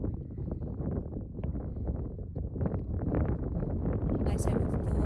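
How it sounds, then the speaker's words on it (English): Strong, steady wind roars across an outdoor horse-riding arena during an eventing jump round, buffeting the microphone with a continuous low rumble that holds throughout, with a brief higher hiss near the end. "Oh, that wind is so loud."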